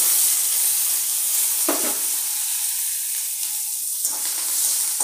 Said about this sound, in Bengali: পেঁয়াজগুলো লাল লাল করে ভাজবো